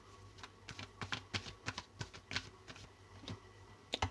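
Tarot cards being shuffled and drawn, a quiet series of irregular soft clicks and flicks, some in quick clusters, close up with no talking.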